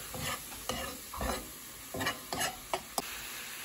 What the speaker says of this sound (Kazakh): Қантымыз еріп, алмамыз жұмсарғанша осылай қыздырамыз.